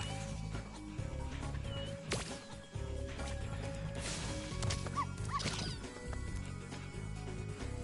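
A dog in the Spyro Reignited Trilogy video game gives short barks and whimpers amid game sound effects, music and clattering, with brief yips scattered across the stretch.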